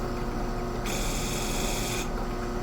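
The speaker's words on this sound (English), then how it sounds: "there's a lot of burr I have to take off of that" A chisel being sharpened to take off the burr, a steady harsh grinding rasp of metal on an abrasive that grows brighter and more intense in the middle, then eases back, close and continuous.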